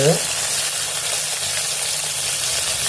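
Steady, loud sizzling of cumin seeds frying in hot oil, a continuous crackling hiss that holds evenly throughout.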